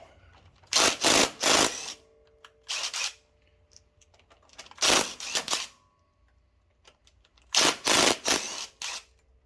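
A ratcheting wrench loosens a 10 mm bolt on the extension of a Kohler Command Pro 20 HP engine, sounding in close, loud bursts of rapid clicking with quiet pauses between them.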